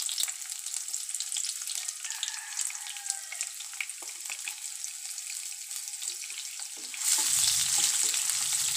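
Onions and green chilies sizzle loudly in hot oil, a steady close crackle with light stirring that swells brighter and louder near the end.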